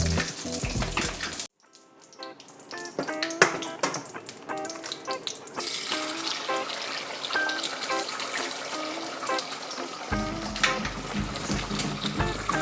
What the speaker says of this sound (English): I'm just going to let the egg fry just for a few moments